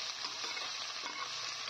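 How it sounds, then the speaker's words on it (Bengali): Broccoli fries in mustard oil in a pan with a brief, quiet, steady sizzle heard up close. "ব্রোকলিগুলো ভাজা হয়ে গেছে।"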